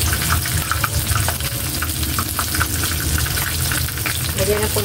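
Bihon rice noodles hitting a hot frying pan, giving a steady, close sizzle and crackle with stirring clatter throughout, along with a brief metallic clink near the end.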